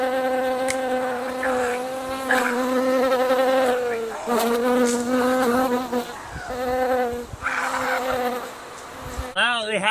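Bees or hornets buzz around their nest out in the wilderness, a loud, close, continuous drone whose pitch wavers and swells throughout.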